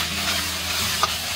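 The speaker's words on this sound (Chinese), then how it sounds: "先把这个大头虾放上去，保持中火煎，先把这个壳煎到脆脆的" King prawns pan-frying in hot oil over medium heat, a steady close sizzle with a brief spatter near the end and no talking.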